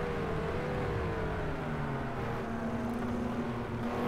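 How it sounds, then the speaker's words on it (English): A GT3 race car engine in the racing game Project CARS 2 drones steadily at a distance during a race start at Zhuhai, a low sustained hum with a pitch that slowly shifts under a faint background wash. "I can hear his engine going off."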